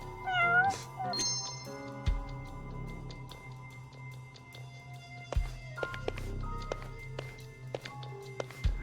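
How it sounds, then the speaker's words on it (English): A cat meows in a video game: several clear, close mews and rising calls spread through a quiet scene, with soft taps and light footsteps between them. "Look, a cat."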